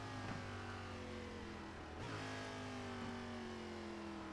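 An ARCA Pro race car engine holds a high, steady whine, then blips and drops pitch through a quick downshift before climbing again under braking into a turn.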